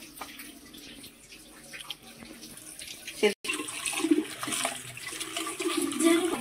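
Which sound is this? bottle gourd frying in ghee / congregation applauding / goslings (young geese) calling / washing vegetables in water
washing vegetables in water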